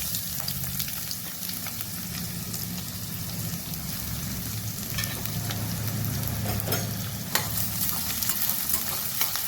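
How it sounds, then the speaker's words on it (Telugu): Chopped onions and green chillies sizzle steadily in a hot pan, a continuous close crackle with occasional scraping stirs and small spatters, no voices. "ఈ ఉల్లిపాయలు బాగా వేగాలండి."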